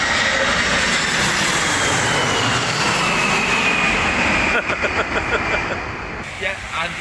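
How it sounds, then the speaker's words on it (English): An airplane flies overhead with a loud, broad roaring rush that fades toward the end, while people talk over it. "I think there's another plane coming."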